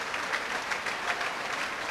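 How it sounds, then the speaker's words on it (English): Football crowd at a 1997/98 Plymouth Argyle versus Wrexham match applauding a player, a brief steady wash of distant clapping from the stands. "John Sheffield deservedly gets some applause."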